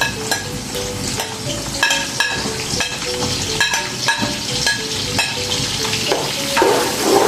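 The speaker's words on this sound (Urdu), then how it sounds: "اور پیاز کو ہم فرائی کریں گے لائٹ براؤن ہونے تک" Onions fry in hot oil for chicken nihari, a loud continuous sizzle punctuated by repeated sharp clinks and scrapes of a spoon against the pot, close up and without talk.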